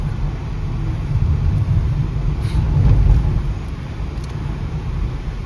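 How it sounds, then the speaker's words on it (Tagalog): Road traffic near Sydney rolls past as a steady low rumble of vehicles, swelling slightly midway as passing cars draw closer, with no one speaking. "It's traffic on the other side."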